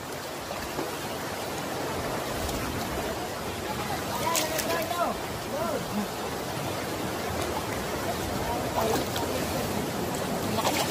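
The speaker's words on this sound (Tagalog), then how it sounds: "Alon." Strong ocean waves wash around a small boat near an island, a broad continuous roar of surf and churning water, fairly loud throughout, with people's voices faintly heard over it at times.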